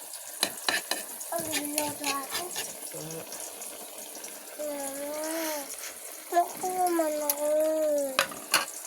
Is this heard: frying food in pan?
yes